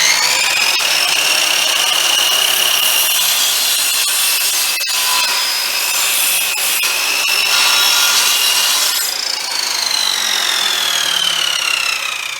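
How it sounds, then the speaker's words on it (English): A miter saw cutting through a piece of deck wood, a loud, steady whining saw cut with rasping wood noise running continuously close up for about twelve seconds, no talk. "I'm just going to use our miter saw,"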